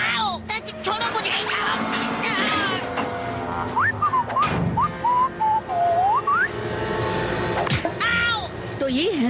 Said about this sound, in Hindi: उसकी सीटी बहुत ही बेसुरी है